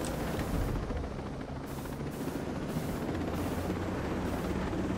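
Helicopter in the video game Ghost Recon Breakpoint, a steady, dense rotor and engine drone that holds loud and unbroken throughout, with no voices over it.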